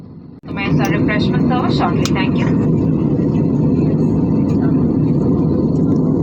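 Steady broadband roar of a passenger jet cabin in cruise on a Thiruvananthapuram–Bengaluru–Delhi flight over sparsely populated hill country, loud and continuous, with a voice talking briefly over it at the start.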